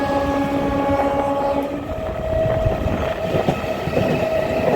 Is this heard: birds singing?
no